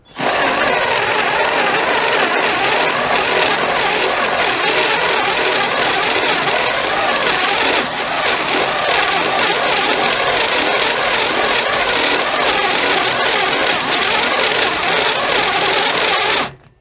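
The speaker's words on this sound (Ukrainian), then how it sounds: "Друга швидкість і сверло Форснера на 35 мм." A budget Anton cordless drill on second speed boring through wood with a 35 mm Forstner bit, a loud, steady grinding whir that runs unbroken for the full stretch with only a brief dip midway.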